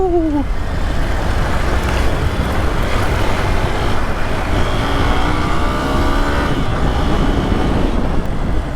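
A Hero Xpulse motorcycle rides off-road, its engine a continuous loud rumble mixed with wind buffeting and rough-ground noise throughout.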